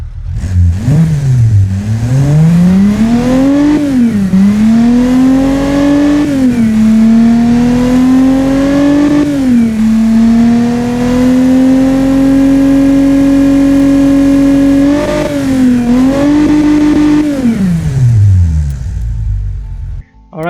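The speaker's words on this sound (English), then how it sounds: "the engine sounds much better than before" A DMC DeLorean V6 in the Automation game, fitted with a new exhaust, revs up from idle in several climbing pulls, then holds a loud sustained high-rpm drone before dropping back down, with the engine alone and very close.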